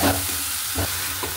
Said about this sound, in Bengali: ভাজা করে নিই, শাকটা দিয়ে দেবো